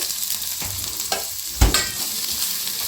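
Shallots fry in coconut oil with a soft continuous sizzle, broken by a few stirring scrapes and one sharper clatter partway through.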